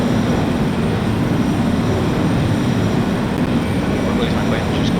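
A-10 attack jet engine in the video game Neo Warfare X, a steady, loud, broadband roar that fills the whole stretch without a break.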